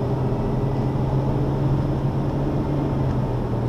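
A Ferrari F12 Berlinetta engine drones loudly and steadily on the Magny-Cours circuit, its low, constant roar heard from inside the car with no gaps or talk.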